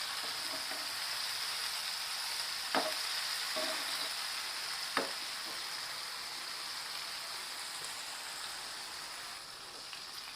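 Pieces of sea bass fry in a pan over medium heat, giving a steady, even sizzle throughout with a couple of brief clicks from turning the fish; no one talks.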